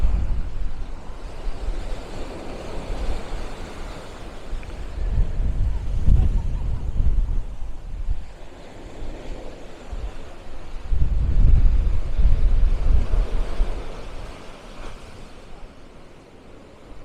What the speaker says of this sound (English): the waves have been coming in gently up along here this whole time